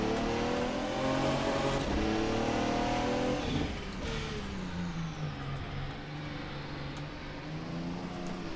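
Radical RXC GT3 race car engine in the rFactor 2 game: a loud, steady engine drone with layered harmonics that climbs, drops sharply with a gear change or lift near four seconds, then settles into a lower, rougher note.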